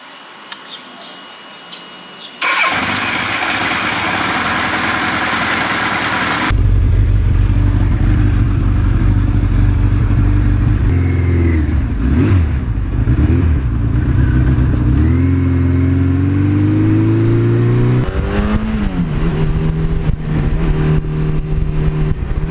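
A 1982 Suzuki GS1100E motorcycle cranks over and fires, then settles into a loud, close idle before being revved up and down several times, with steady engine roar throughout and no talking.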